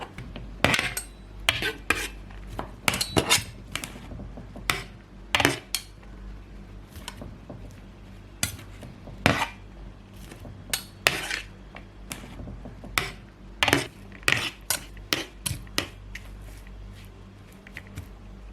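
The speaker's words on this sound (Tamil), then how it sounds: "கொஞ்சம் சிக்கன், கொஞ்சமாக தக்காளி, அதுக்கப்புறம் இந்த லெட்டிஸ் லீவ்ஸ், அப்புறம் கொஞ்சமாக ஃப்ரெஞ்ச் ஃப்ரைஸ், இது எல்லாத்தையும் நம்ம போட்டு நல்லா மிக்ஸ் பண்ணிடலாம்." Chicken, tomato, lettuce and french fries being tossed together for shawarma, with repeated clinks and scrapes of a utensil against a bowl at an irregular pace, close and alone.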